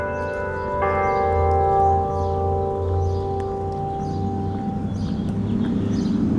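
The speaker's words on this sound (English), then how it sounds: "Very beautiful sounding bells." Church bells ring out in St. Michaels, Maryland, with sustained, overlapping tones that hum and slowly decay as a new strike joins partway through, with faint bird chirps underneath.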